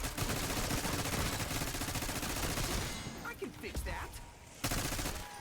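Rapid, dense gunfire from a zombies round in Call of Duty: Black Ops 6 on Liberty Falls, loud and nearly continuous for three seconds, then sparser shots and game noise with a burst near the end.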